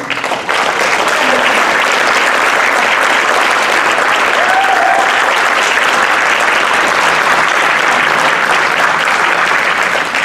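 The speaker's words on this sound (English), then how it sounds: "let's give these guys a round of applause" Sustained, loud audience applause for legislators at a legislative panel, a thick, continuous wash of clapping that starts suddenly and keeps up without a break.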